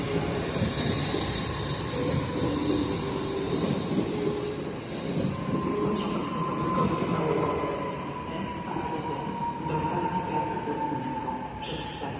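A train pulling into Kraków Główny station: a steady rumble and hiss of wheels on track, a long thin wheel squeal, then a series of rhythmic clicks over rail joints near the end, heard alone at close range.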